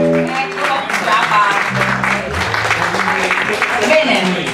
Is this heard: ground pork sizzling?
no